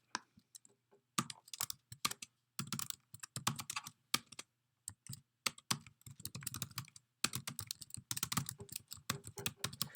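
Typing on a computer keyboard in irregular bursts of close, crisp key clicks, with brief pauses between runs and no talking.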